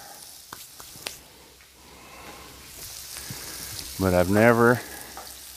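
Brussels sprouts frying on a Blackstone griddle, a steady low sizzle running throughout while a person speaks briefly near the end.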